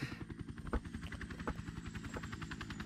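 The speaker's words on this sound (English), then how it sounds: "Helicopter!" A helicopter in a video game thuds with steady rapid rotor beats, close and prominent, with a few sharp impacts mixed in and no talk.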